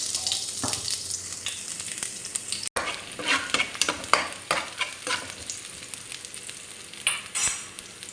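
Onion sautés in hot cooking oil, a loud close sizzle broken by frequent spatula scrapes and stirs in an irregular rhythm, with no talking.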